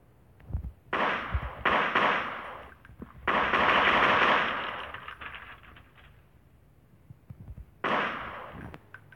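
Pistol fire in a video game comes as several loud, clustered bursts of rapid shots separated by brief pauses, with a final burst after a longer quiet stretch.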